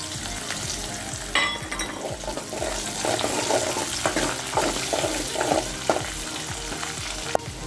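Onions and green chillies fry in a pan for a buttermilk curry, a loud continuous sizzle and crackle with repeated spatula scrapes and stirring knocks throughout, and a brief splash of running water partway through, with no voices.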